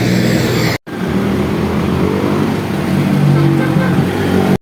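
A man's father's motorcycle runs at a roadside repair shop, its engine a loud, steady, rough drone close by, broken by two brief cut-outs.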